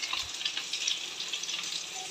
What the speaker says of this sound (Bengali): ভাজছি এখনও, ভাজা এখনও হয়নি, আস্তে আস্তে কমিয়ে দিদি ভাজছি